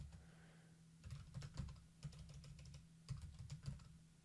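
Soft clicking of keys on a computer keyboard in several short flurries, close up, over a faint constant electrical hum.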